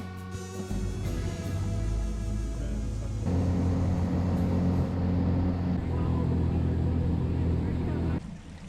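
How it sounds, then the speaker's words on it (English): A motorboat on Lake Kawnipi in Quetico, its engine droning steadily with rushing water and hull noise, loud and close throughout, before the motor suddenly drops away near the end. "our outfitters gave us a boat ride to Hook Island"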